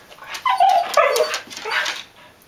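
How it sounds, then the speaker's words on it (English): A pet dog gives a short run of yips and whimpering barks, close and fairly loud, over about a second and a half, while it is being asked to give its paw. "No bark."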